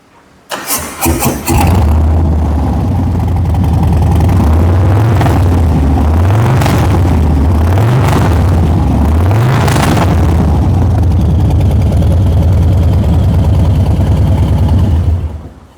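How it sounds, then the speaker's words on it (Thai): A 2021 Harley-Davidson Street Bob 114 motorcycle cranks and fires up, then settles into a loud, close, steady low-pitched idle, with a few quick throttle blips early on and no voices. "ขอฟังเสียงเครื่องยนต์หน่อยครับ"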